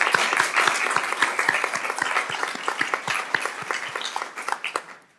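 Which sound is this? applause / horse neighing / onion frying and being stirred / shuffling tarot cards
applause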